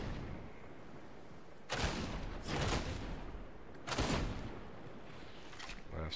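Incendiary rounds fire in the video game Warhammer 40,000: Darktide, three heavy booming blasts with noisy rumbling tails over a constant background roar.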